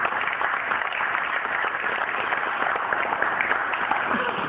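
An audience applauds at a team-building event in Dakar, a steady dense clapping that holds throughout without pause.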